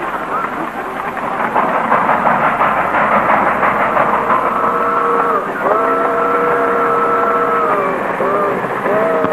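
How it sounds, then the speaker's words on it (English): A train pulls into a station, a rumbling rolling mass that swells, followed by long steady squealing brake tones that shift in pitch as it slows. "Train stops in 5 minutes."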